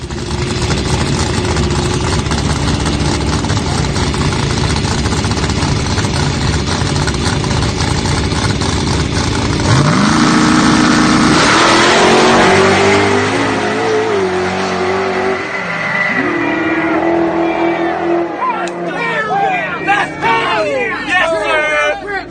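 No-prep drag race cars, including a Mustang, roar at high revs in a loud, continuous engine drone, then a sharp rising launch sweep around the middle as they accelerate away, with crowd babble mixed in underneath.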